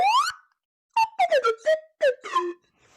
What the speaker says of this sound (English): That deserves actually a blow with a slide whistle.